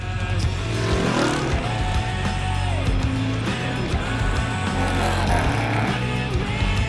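Cars drive at a motorsport show, with engines revving and roaring continuously and tires squealing at moderate distance, forming a dense mechanical din throughout.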